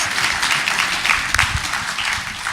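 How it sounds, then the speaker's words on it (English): An audience applauds after an opening statement, with continuous close clapping from a room full of people at a lively volume and a few sharper individual claps standing out near the middle. "That deserves a round of applause."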